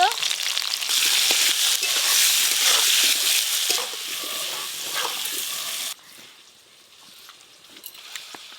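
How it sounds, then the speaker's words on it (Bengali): Potatoes frying in a pan with salt and turmeric give a loud, steady sizzle with light stirring scrapes that drops suddenly to a quieter sizzle, while a voice talks faintly in the background. "কেটে ধুয়ে রাখা আলু নুন হলুদ দিয়ে ভেজে নেব।"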